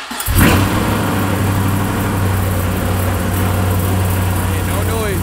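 An LS V8 engine in a Chevrolet Caprice police car with a dead cylinder cranks and catches with a loud burst, then settles into a steady, rough-sounding idle. A voice speaks briefly over the engine.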